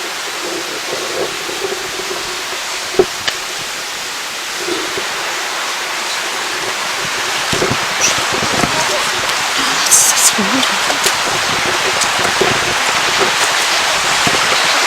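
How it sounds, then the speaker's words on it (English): Broad, constant rush of gurgling water fills the scene, with scattered clicks and a person briefly speaking over it. "See the water? It's the water. It sounds like a gurgling."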